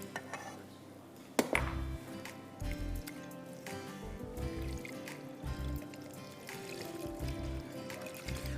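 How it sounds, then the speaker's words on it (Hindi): Milk poured into a white sauce in a pan gives a soft trickle, with intermittent clinks and scrapes of a whisk against the pan and low thumps throughout. "और थोड़ा दूध डालेंगे"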